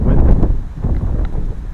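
Strong wind by a lagoon in the woods near Laguna Muyil, Sian Ka'an, Mexico, buffeting the microphone with a loud, steady low rumble and roar throughout.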